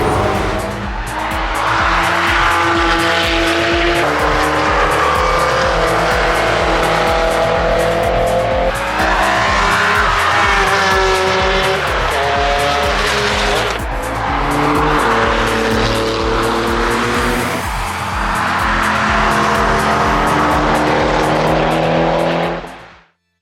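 A new Mini GP3 lapping the Nürburgring Nordschleife, loud engine rising and falling through gear changes with tire squeal, heard close from inside the car without pause.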